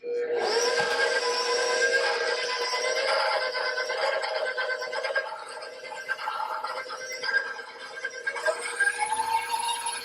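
An electric mixer whips butter in a bowl for coconut buttercream frosting, giving a steady loud whirring hum that runs without a break the whole time.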